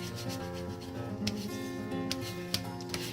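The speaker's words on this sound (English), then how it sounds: "you want to burnish this down really good" Chipboard for a mini album is burnished down with a tool, a soft close rubbing and scraping that runs steadily with a few light taps.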